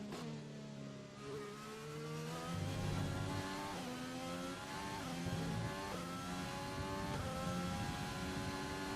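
Simulated Formula 1 race car engine from the F1 2020 game, loud and continuous, its revs rising and dropping in repeated shifts as the car pushes through a lap and struggles to turn in.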